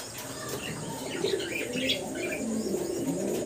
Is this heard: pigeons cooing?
yes